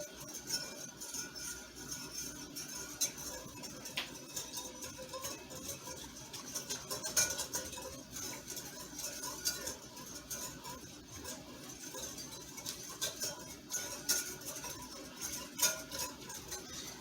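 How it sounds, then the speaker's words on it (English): A spoon clinks repeatedly against a glass in a quiet, irregular rhythm, the small taps close but faint, with no voices. "Stir it until it's dissolved."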